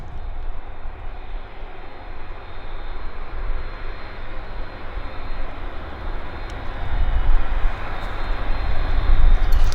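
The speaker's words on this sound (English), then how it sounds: "What a monster of an airplane." The re-engined turbofans of a USAF C-5 Galaxy military transport roar on arrival at Abbotsford in a loud, continuous broadband rumble that swells toward the end.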